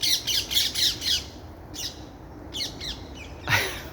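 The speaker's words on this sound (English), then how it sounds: "4 parakeets." Four parakeets squawking in apple trees on an allotment plot: a quick run of harsh, repeated squawks, then scattered single calls after short pauses, at a middle distance and clear against quiet background.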